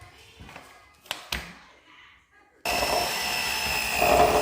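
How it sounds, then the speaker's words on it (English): A blender whirs loudly and steadily as it blends prunes, almonds, raisins, walnuts and water, starting abruptly after a few quiet clicks and kitchen handling sounds. "So I'm gonna blend these up."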